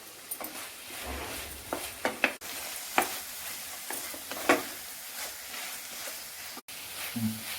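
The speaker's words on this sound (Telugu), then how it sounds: "టమాటా సాస్ వేసుకొని బాగా వేయించుకోవాలి." Onion fried rice being stirred and fried in a pan with soy sauce and tomato sauce, a continuous soft sizzle broken by scraping stirs and occasional clanks of the utensil against the pan.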